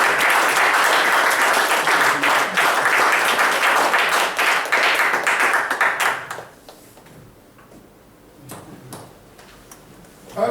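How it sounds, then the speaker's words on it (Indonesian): An indoor audience breaks into loud, dense applause that holds for about six seconds before thinning out into scattered individual claps. "kita kasih tepuk tangan yang sangat meriah"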